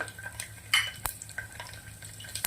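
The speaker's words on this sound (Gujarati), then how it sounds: "15 થી 20 લસણની કળી નાખવાની છે," Garlic cloves fry in hot mustard oil with mustard seeds and cumin in a pressure cooker, a steady close sizzle broken by sharp clinks and scrapes of a spoon stirring against the metal.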